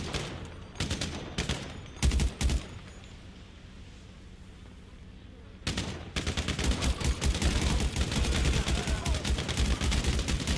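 Gunfire in GTA Online, coming in short bursts at first and then heavy, continuous rapid shooting after a quieter gap, loud and close.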